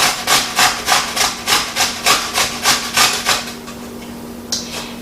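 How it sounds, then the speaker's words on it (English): A potato is grated on a grater in a home kitchen, about a dozen rhythmic, evenly spaced rasping strokes close up, then a brief pause and one final scrape over a faint steady hum. "we're just going to grate the potato here"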